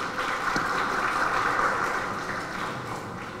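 Audience applause at a live Javanese shadow puppet (wayang) performance, a steady dense patter of clapping from a crowd, fairly loud and sustained throughout with no voices over it.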